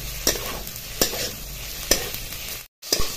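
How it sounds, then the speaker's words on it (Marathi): Spice ingredients dry-roasting in a pan, a steady sizzle broken by three or four sharp scraping stirs at regular intervals, close and clear, with a brief pause near the end. "एक 4 ते 5 मिनिटं परतवल्यानंतर ना आपले हे मसाल्याचे जे इन्ग्रेडियंट्स आहेत ते परतून झालेत"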